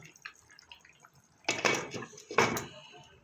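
A lid set onto a pan of fish curry with kohlrabi and potato: after quiet faint clinks, two close metallic clanks and rattles follow about a second apart, then settle.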